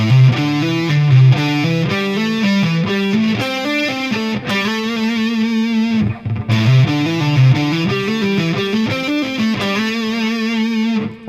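A distorted electric guitar plays a rock sequence lick, with quick hammered or picked notes in repeating patterns running continuously and loud, no voices over it.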